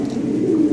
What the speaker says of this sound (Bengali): এই যে দেখেন বিশাল সাইজের কবুতর ভাই।